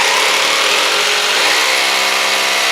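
A power drill grinds continuously into a wall, breaking out a recess for an inlet junction box during termite reticulated piping installation; the steady, loud, close whine holds throughout with no speech.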